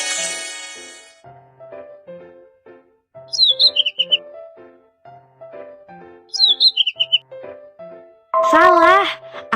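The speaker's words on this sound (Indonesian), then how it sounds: "Burung kecil." A small bird gives two quick bursts of high, bright chirps amid stretches of spoken voice, followed by a loud, wavering bleat at the end.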